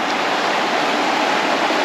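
River flowing beside a forest trail in West Virginia, a steady loud rush of water that stays constant throughout and fills the whole clip.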